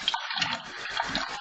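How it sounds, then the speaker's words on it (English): Cold tap water runs and splashes over rice being rubbed and rinsed by hand, a close, continuous gush with small rattling clicks. "So we just run it through some cold water,"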